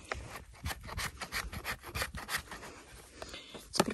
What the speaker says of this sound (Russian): водить по сухой меловой пыли высохшего куска